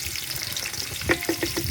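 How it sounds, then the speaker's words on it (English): Onions frying in oil over a cooking fire in an African village, a steady close sizzle with a few brief clinks from utensils near the end. "After adding oil, we add onions."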